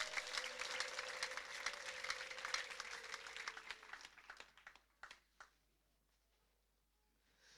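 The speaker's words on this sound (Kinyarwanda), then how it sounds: "Abatarafatwa bakomera Imana amashyi menshi cyane" A church congregation claps together in dense, loud applause that thins into scattered individual claps and fades to near silence by the end.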